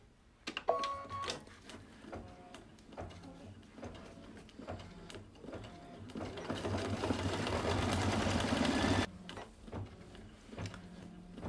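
Embroidery machine stitching out with orange thread on a mug rug, a series of rapid mechanical clicks building into a sustained busy whirring run before stopping, fairly quiet and close.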